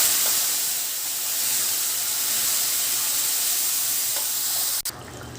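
Mutton added to hot oil with fried curry leaves, giving a steady loud sizzle and hiss that holds evenly throughout, with a brief clatter near the end and no talking.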